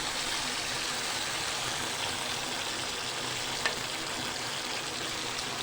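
A finely ground tomato and onion paste fries on slow heat in a karahi for chicken karahi, giving a steady, soft sizzle throughout with one brief tap partway through.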